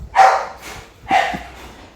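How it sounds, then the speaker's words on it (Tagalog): A household dog barks twice, two short, moderately loud woofs spaced about a second apart, indoors and with no one talking. "ang ating aso"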